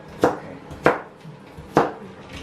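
A knife chops onion into medium pieces on a cutting board, giving three sharp, separate thuds at an uneven pace, heard up close with no talking.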